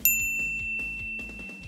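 A bright notification bell dings once at the start, sharp and clear, followed by softer low tones fading over a couple of seconds.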